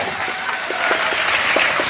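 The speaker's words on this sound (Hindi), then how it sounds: "ताली बजाइए जोर से" An audience at a school science exhibition claps loudly and continuously, individual claps popping out of a dense wash that swells slightly toward the end, with no speech audible.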